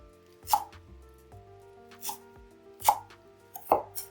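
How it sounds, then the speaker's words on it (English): Green onion being sliced with a knife on a cutting board, four crisp separate chops spaced about a second apart, close and clear with no talking. "Now for the green onion, you may want to slice it to half so they don't roll around too much."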